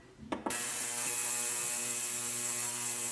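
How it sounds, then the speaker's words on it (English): An ultrasonic cleaner starts up inside a soundproof box, a steady, loud mechanical whine with a faint rattling hum that holds on evenly after a brief clicking start. "this is a soundproof box for the ultrasonic cleaner"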